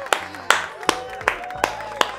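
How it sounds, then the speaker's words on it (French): One person claps six times close by in an even, unhurried rhythm, each clap sharp and distinct with short decays between. "Applaudissons."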